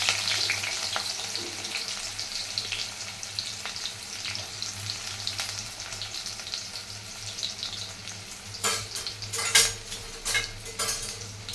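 Small morola fish fry in oil in a pan with a steady, dense sizzle throughout. A few louder metallic clinks and scrapes of stirring come near the end, all close and without speech.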